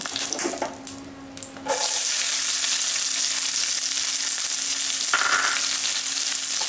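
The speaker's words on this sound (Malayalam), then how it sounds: "വെളിച്ചെണ്ണയായ നന്നായി ഓയിൽ ഒഴിച്ചു അതിലേക്ക് നമുക്ക് ഉള്ളി ഇട്ട് കൊടുക്കാം" Small onions sizzle steadily in hot coconut oil, a loud, continuous frying hiss that starts abruptly and holds on close, with no talk over it.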